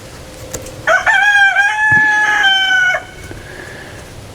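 A rooster crows once near a backyard chicken run, one loud drawn-out cock-a-doodle-doo lasting about two seconds, with faint knocks and rustling around it.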